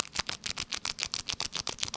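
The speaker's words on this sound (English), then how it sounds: "They like the sound of the treat noise." A plastic cat treat bag crinkled close by in quick rhythmic bursts, about ten sharp rustles in two seconds, fairly quiet with no voices over it.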